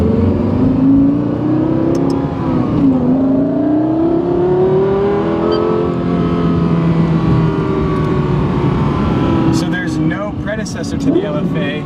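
A Lexus LFA supercar engine revs loud and close, its pitch climbing and falling in smooth sweeping waves, with a sharp rasp near the end.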